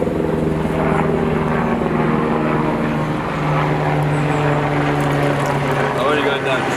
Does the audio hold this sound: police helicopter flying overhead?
yes